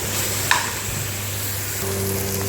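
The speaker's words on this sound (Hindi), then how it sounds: "देखिए कैसे मैं भून कर ले रही हूँ।" Whole green moong dal dry-roasting in a pan over a high gas flame gives a steady, close, gritty sizzle with a faint hum beneath and one small clack near the start, and no one speaks.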